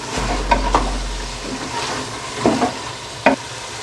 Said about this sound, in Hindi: तो थोड़ी देर के लिए फ्राई करेंगे